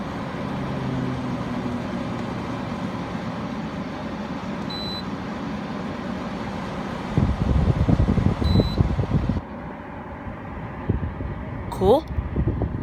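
An Emerson Quiet Kool 8000 BTU through-the-wall air conditioner fan runs as a steady broadband whoosh, stepping up louder partway through, with a few short beeps from the unit's controls and a voice speaking over it.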